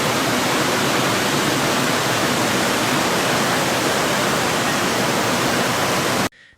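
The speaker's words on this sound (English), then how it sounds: "the Seveso River flooded in the Niguarda area of Milan" The flooded Seveso River in Milan's Niguarda area, swollen by heavy rain, rushes with a dense, unbroken roar like a waterfall, loud and close, cutting off abruptly near the end.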